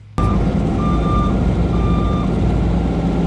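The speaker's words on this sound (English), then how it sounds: "We're gonna have to relocate his backup beeper" A backup beeper on a VW dune buggy emits a few short, evenly spaced high beeps over a loud, constant engine rumble that starts abruptly, all close by with no talking.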